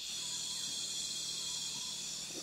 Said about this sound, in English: There's a lot of insects, a lot of frogs, several interesting birds.